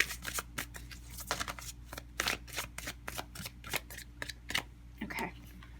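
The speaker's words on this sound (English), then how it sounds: "let's see if we can get 3 cards here" Tarot cards are shuffled close up in quick riffling bursts, a rapid series of papery flicks and slaps repeating across the moment with brief pauses between.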